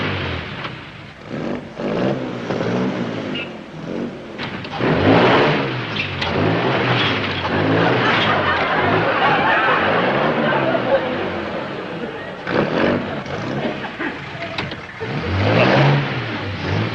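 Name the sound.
car engine revving while maneuvering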